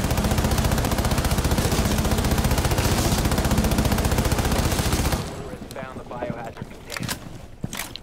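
Rapid, evenly spaced pistol shots fire in a dense, loud burst in Rainbow Six Siege, then cut off abruptly, leaving quieter scattered game sounds with voices talking.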